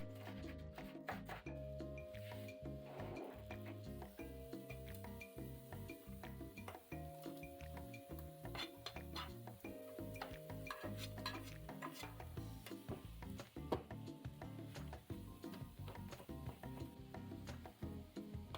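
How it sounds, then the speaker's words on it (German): Faint, steady sizzling of kimchi and rice frying in a pan, with scraping and stirring, over soft tonal background music. "braten es in einer Pfanne mit dem Reis an."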